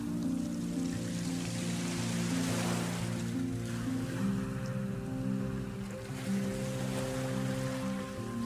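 Ocean waves wash ashore in a continuous, steady surf wash for meditation, layered under soft sustained background music tones.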